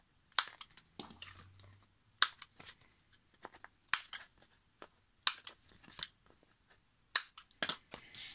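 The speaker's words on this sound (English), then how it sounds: "First, I think I'm gonna cut corners" Scissors snipping the corners of a card for collage postcards, a series of sharp crisp cuts in small clusters with pauses between, close and distinct against a quiet background.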